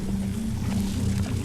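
A boat moving backwards as if time were reversed in the film Tenet, a steady low motor drone with a rushing wash over it, at a constant moderate level.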